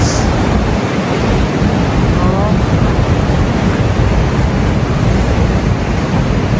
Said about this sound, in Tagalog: umahampas yung tubig sa bato